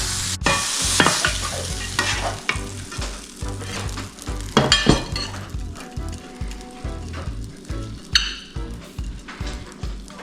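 Homemade bonito fish bait strips frying in a pan with garlic salt, a steady close sizzle with scraping and stirring from a utensil, and a short metallic clatter partway through.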